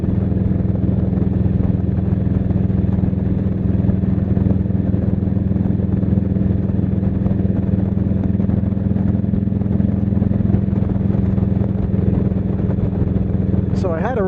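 A 1999 Harley-Davidson Road King rumbles steadily through farmland countryside. The loud, low engine drone holds constant with wind buffeting, and there is a brief voice at the very end.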